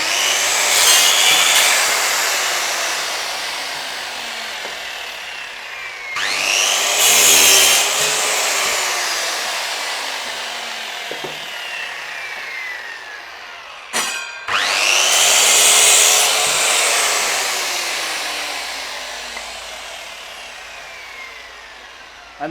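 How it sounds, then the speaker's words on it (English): A saw cuts through a wood workpiece clamped on a half-lap jig. Three long, loud sawing passes are separated by short pauses, with no talking. "and then when I run my saw"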